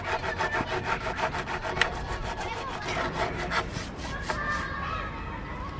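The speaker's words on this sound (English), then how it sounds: "we're going to sand off all the excess resin" Sandpaper rubs back and forth over a surfboard repair to take off excess resin, a steady rhythmic rasping of strokes close by that eases off near the end.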